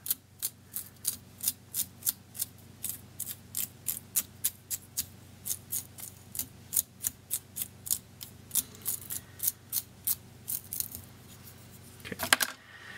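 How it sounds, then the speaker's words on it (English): A Velcro stick brushed repeatedly through mohair yarn at a fly-tying bench, giving a steady series of about thirty crisp, close scratchy rasps in an even rhythm, ending with a brief rustle. "We're going to take our Velcro stick, and we're going to loosen up these fibers on this yarn."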